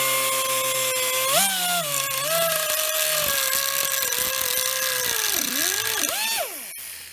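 A power tool trims a long protruding stud on a lifted 2019 Honda CR-V, its whining motor running steadily and loud for several seconds, pitch sagging under load near the end before it spins down.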